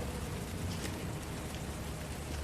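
Steady, dense rain pouring down, a constant wash of hiss with no pauses or other sounds.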